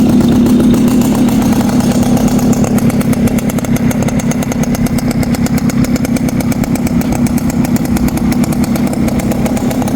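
The engine of a white Yamaha Mate 100 motorcycle runs steadily nearby, a loud, continuous low putter with a fast, even firing rhythm and no talk over it.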